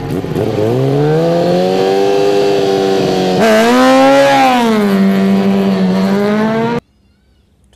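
Racing motorcycles at the Isle of Man TT on the road course, loud close engine howls climbing in pitch, one bike screaming past with a sharp Doppler drop before the sound cuts off abruptly.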